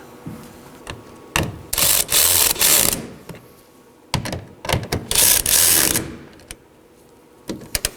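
Ratchet wrench snugging down the taillight assembly bolts on a Nissan Sentra, two loud bursts of quick clicking strokes separated by pauses, with a few lone clicks at the end.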